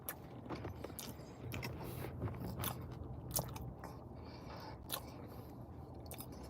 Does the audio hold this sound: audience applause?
no